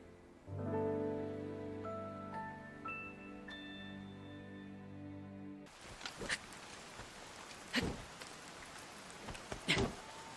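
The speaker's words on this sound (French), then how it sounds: "La pluie n'a pas l'air de vouloir s'arrêter." Rain falls in the video game Zelda Breath of the Wild, with steady hiss and scattered louder drops arriving alone after a sustained musical chord fades out.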